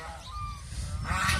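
Geese on a goose farm honk close by in short overlapping calls, a loud flurry that swells toward the end, with no talking.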